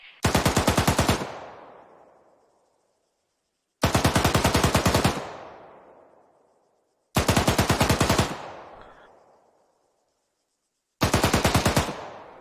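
Automatic gunfire in the military video game Arma 3 arrives in four long, rapid bursts, each lasting over a second. Every burst is followed by a fading echo and a short silence before the next one.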